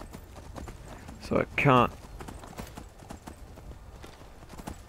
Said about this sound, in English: Unfortunately, this is not a battle-trained horse.